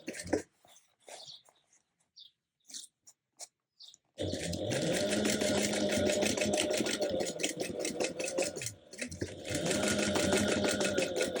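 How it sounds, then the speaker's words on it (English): After a few quiet clicks and handling noises, a sewing machine stitches a 1/4 inch seam, running loudly and steadily for several seconds with a brief pause in the middle, then continuing. "I will be sewing at a 1/4 inch first"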